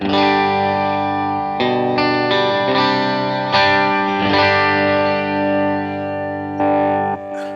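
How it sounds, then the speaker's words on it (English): An electric guitar plays through an Essex A-30 amp model, based on a Vox AC30, on a POD Go preset. Chords ring loud and close with chorus, delay and reverb, and each new strum is sharply struck. "this is the preset as it sounds"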